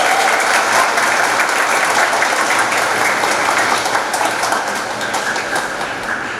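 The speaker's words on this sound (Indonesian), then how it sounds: "Dan juga tepuk tangan untuk anak-anak kita semua." Congregation applause at a church First Communion celebration, a dense, steady clapping that fills the whole stretch and eases slightly toward the end.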